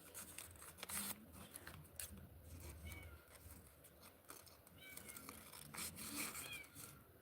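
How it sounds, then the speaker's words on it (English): An indoor cat meows repeatedly, fairly faint and slightly distant, while wanting to come inside, mixed with rubbing, snipping and handling noises from nearby sewing work. "my cat wants to come inside."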